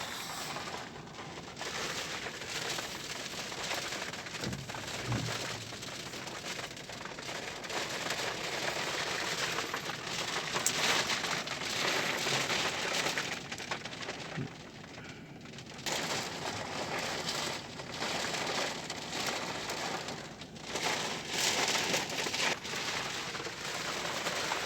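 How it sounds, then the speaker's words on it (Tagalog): Heavy night rain pours steadily in a dense, hissing wash, with scattered louder patters and thuds, no voices present. "Malakas na ulan mga katulits"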